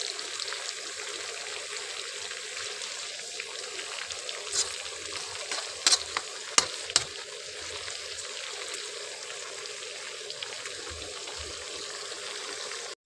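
Catfish frying in oil without flour, a steady hiss and crackle of hot oil with scattered sharp pops, continuous and fairly quiet throughout.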